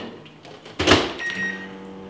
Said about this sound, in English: We put it in the microwave.